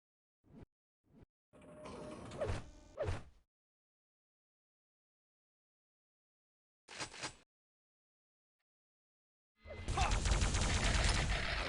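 Railgun fire in Quake 3 CPMA, heard as several sharp, loud shots and bursts separated by silences: two quick cracks, a longer noisy burst, a brief shot mid-clip and a sustained blast of gunfire at the end.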